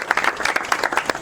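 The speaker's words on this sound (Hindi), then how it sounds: "जोरदार तालियां" Loud applause from a church congregation during a prayer service in Faisalabad, dense overlapping claps in short swelling bursts with no talk.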